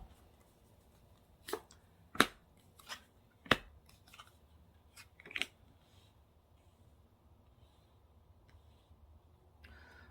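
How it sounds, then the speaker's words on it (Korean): Tarot hint cards drawn from a deck, giving a handful of sharp, crisp card snaps and flicks in an uneven rhythm over a quiet room, with no voices. "먼저 3장의 카드, 힌트 카드를 뽑아볼게요"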